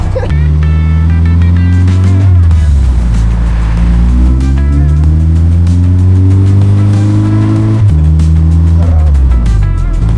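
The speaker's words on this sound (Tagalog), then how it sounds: "tapos na kami mag-test drive nitong ating 4G63 na owner type Jeep" A 4G63-engined owner-type Jeep drives on a test run, with a loud, close engine droning and climbing in pitch through gear changes and revving throughout, with people talking over it.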